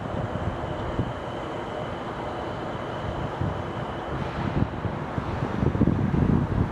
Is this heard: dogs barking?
no